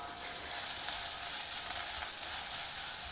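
Onions, ginger, green chillies, grated carrot and curry leaves frying in oil, giving a steady, even sizzle that stays close and continuous throughout.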